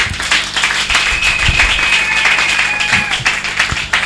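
A church congregation claps steadily and loudly in acclamation, a dense continuous patter of many hands lasting throughout, with faint voices mixed in beneath.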